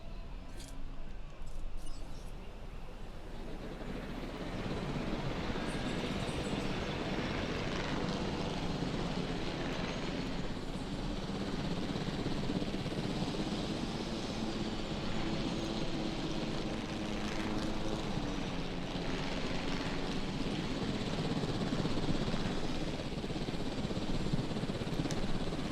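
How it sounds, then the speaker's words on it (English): A helicopter flies in the dinosaur theme-park game Jurassic World Evolution, giving a steady, dense engine and rotor drone that holds at an even loudness throughout. "Yeah, I can fly as the helicopter if I want."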